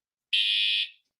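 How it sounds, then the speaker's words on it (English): A fire alarm sounds a single steady high-pitched electronic tone lasting about half a second, loud and alone, then cutting off quickly. "This is the alarm that goes off even when they test the fire alarms."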